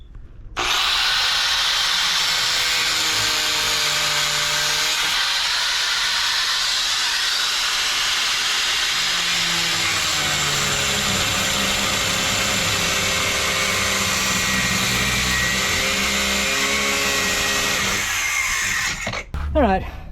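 A power cutting tool grinds steadily through rusted steel U-bolt brackets on a fishing kayak build, a loud continuous hissing whine with shifting pitch that runs nearly unbroken for about twenty seconds before stopping abruptly.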